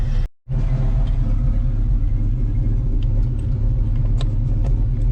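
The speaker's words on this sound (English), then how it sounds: "I'm just going to move some cars out of the driveway" A 1972 Chevrolet El Camino or another car's engine rumbles steadily and close, a low continuous drone after a brief cutoff at the start, as cars are moved out of a driveway.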